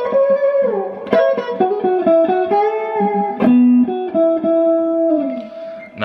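Electric guitar playing the middle section of a song's solo, with bent, sustained melodic notes and quick phrases, loud and close with no talking.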